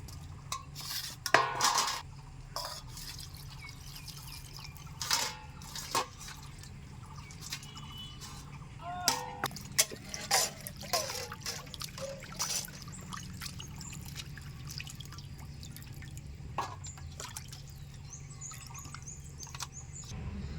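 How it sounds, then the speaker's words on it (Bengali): Raw fish being rinsed by hand in water in a home kitchen, with intermittent splashes, drips and clinks of a metal pot or bowl in irregular bursts, fairly close, with faint birdsong in the background and no talking. "এখন আমি মাছগুলিকে ভালো করে ধুয়ে নেব"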